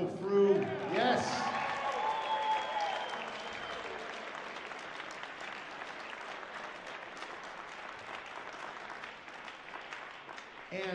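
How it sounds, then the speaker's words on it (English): Sustained applause and cheering from a jazz festival audience, loud and continuous across the whole stretch, with a voice speaking over the opening moments. "please give a huge ovation to Michael Frew"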